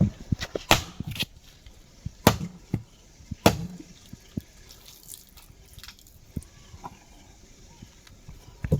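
Water falling from above at a Hindu temple, heard as sharp, irregular splashes and drips over a faint steady wash, fairly close and without any talk.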